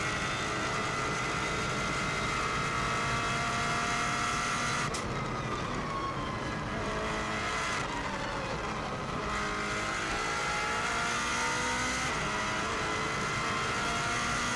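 A 2016 Subaru WRX STI drives flat out on the Isle of Man TT road course, its engine roaring loud and continuous from inside the car with brief dips at gear changes and no voices.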